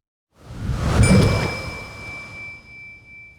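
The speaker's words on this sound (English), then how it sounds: "I'm going to amp up the intensity and layer a strong gust of wind in there, and really make the bubbles sound bigger too" A video game rarity sound effect for a boat game blends a strong whooshing wind gust and bubbling with a sharp bell strike that rings on as a sustained tone, fading out alone.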